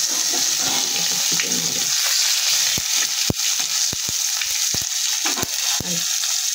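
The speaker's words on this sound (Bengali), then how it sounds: "ফোড়নটা ভাজা হয়ে গেছে, টমেটো কুচিটা দিয়ে দিলাম" Chopped tomato dropped into hot oil over a tempering of bay leaf and cumin seeds, giving a loud, steady sizzle with sharp crackles and pops scattered through it.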